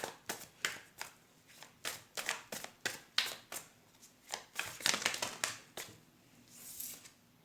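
Tarot cards are shuffled by hand in rapid riffles and soft slaps, a fast irregular rhythm heard up close at low volume, with no talking.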